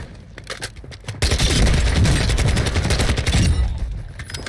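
A 74U submachine gun in Warzone 2 fires a sustained, loud automatic burst of rapid shots that runs for roughly three seconds, preceded and followed by scattered in-game sounds, with no talking.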